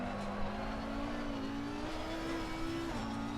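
A race car engine in Assetto Corsa Competizione held at full throttle, a steady high-pitched drone that climbs slightly through a gear, with faint tire noise underneath.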